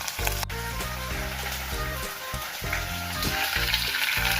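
Tomato paste sizzles in a hot pan while cooking gochujang con carne, a continuous close crackling fry that sits beneath steady background music.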